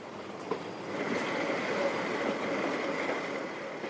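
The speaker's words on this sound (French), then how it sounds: "Le modeste autorail assure le seul départ diurne vers Paris" A modest diesel railcar pulls out of Basel station, a faint, steady rolling rumble with light track noise and no voices.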